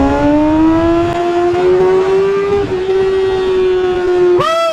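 Kawasaki motorcycle pulling away in first gear, its engine note climbing steadily in a loud, close drone before a sharp jump in revs at the very end.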